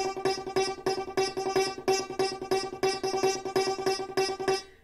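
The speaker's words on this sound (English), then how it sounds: "very muffled kind of, if you will, the sound of inside of a piano" Muffled, plucked piano-string tones from inside a piano repeat in a fast, driving rhythmic pattern, dense and resonant, with no voices, from the game Detroit: Become Human.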